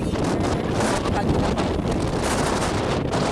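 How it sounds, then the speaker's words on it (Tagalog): Strong wind in Dingalan, Aurora buffets the microphone in a steady, loud roar with rushing gusts, drowning out other sounds. "Ang lakas ng hangin"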